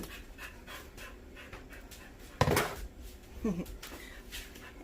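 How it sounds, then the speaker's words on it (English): A dog pants rapidly nearby, with a couple of louder clatters and a brief whimper-like squeak in the middle. "If you hear panting in the background, my dog just came inside."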